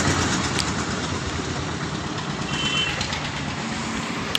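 Tractor engines idle with a steady low rumble, loud and continuous, as many tractors gather outdoors for a farmers' protest march.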